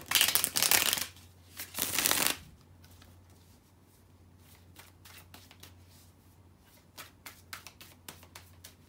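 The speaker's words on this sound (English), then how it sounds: "So let me shuffle the cards, and we are gonna get right into it." Tarot cards are shuffled by hand, two loud riffling bursts close up followed by softer, scattered taps and slides of the deck being squared and handled, with no voices.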